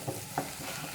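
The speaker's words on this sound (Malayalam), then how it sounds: "ലോ ഫ്ലെയിമിൽ വെച്ചിട്ട് കുറച്ച് സമയം ഇതുപോലെ ഒന്ന് ഇളക്കി കൊടുക്കാം" Spice powders and green chillies frying in oil sizzle softly under a low, steady hiss while a spoon stirs with a couple of faint scrapes, quiet and close.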